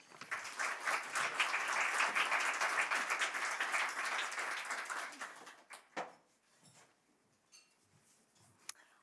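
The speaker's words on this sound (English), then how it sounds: "Let's give her a warm round of applause" Warm audience applause at a healthcare conference on subcutaneous oncology, loud sustained clapping that fades out after about five seconds, leaving a few scattered claps and quiet room noise.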